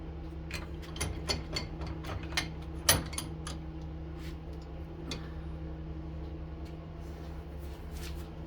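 A socket wrench unscrewing parts from a barbecue, a run of light ratcheting clicks and ticks spaced irregularly over a steady low hum, with one louder metallic clack near the middle.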